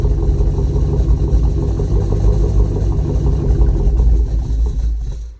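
A loud, low V8 engine swapped into a Chevrolet Colorado rumbles and chugs steadily at idle, then sputters and stalls in the final second, alternator not connected.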